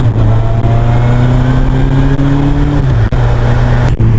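A 2002 Yamaha Fazer 1000 motorcycle pulls away, its engine loud and near with a steady humming drone that rises slightly in pitch and then dips briefly at a gear change.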